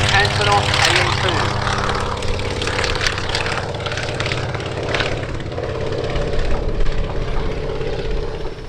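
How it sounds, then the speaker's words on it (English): An Antonov An-2 biplane taking off at an airshow, its piston radial engine droning loudly and steadily with a throbbing propeller tone, close and sustained, with a voice talking over it. "the first aircraft to get airborne is in fact an enemy battlefield support aircraft. It's Antonov AN2"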